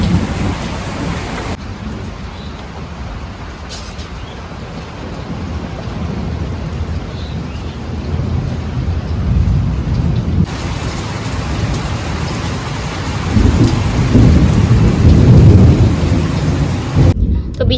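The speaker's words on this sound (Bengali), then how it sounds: "প্রচুর বিদ্যুৎ চমকাচ্ছে, এখানে বসে থাকাও ভয় লাগে" Thunderstorm with heavy rain pouring steadily and close, deep rumbles of thunder rolling underneath and swelling louder toward the end, with no talk.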